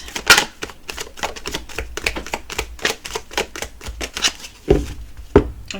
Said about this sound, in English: We're going to shuffle, and then we're going to shuffle.